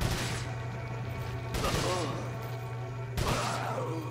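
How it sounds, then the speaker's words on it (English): TMP machine gun fire in Resident Evil 4, with loud sustained bursts of rapid shots in three surges over a steady game hum and sound effects, and a voice talking in the background. "I think this is like my last 11 shots with TMP"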